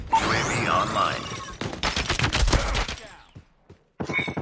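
Sentry gun gunfire in a video game: loud rapid bursts of automatic fire, pausing briefly and then resuming, mixed with other game sounds and a voice.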